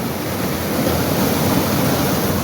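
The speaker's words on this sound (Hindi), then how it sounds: "ये देखो केमिकल मिक्स हो रहा है जाग की तरह" At a water treatment plant, water churns and froths as chemicals are mixed in, producing a steady, loud rushing hiss with no pauses.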